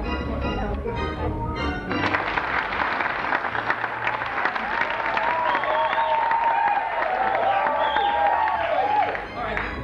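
An audience at a Balderdash Cup event bursts into applause after a moment of talk, a loud, dense, sustained clapping crowd with cheering voices over it.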